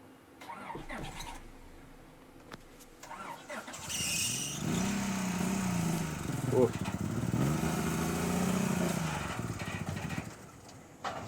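Mazda Miata engine running as the car is taken off a trailer, a steady mid-pitched idle and revving that swells and holds for several seconds, with people talking nearby.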